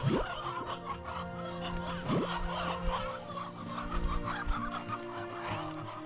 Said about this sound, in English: we'll grab us some bushel of chickens